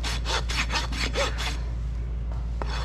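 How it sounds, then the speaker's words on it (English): Rasp strokes on a horse's hoof heel during a barefoot trim, a run of about seven quick, even back-and-forth scrapes up close, then a pause with a couple of lighter touches. "I want to pull up on my rasp, even out the heel a little bit"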